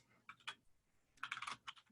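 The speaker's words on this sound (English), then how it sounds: "I keep typing bad." Two short bursts of rapid typing on a computer keyboard, crisp clustered keystrokes at moderate distance, with a brief pause between them and no talking over the clicks.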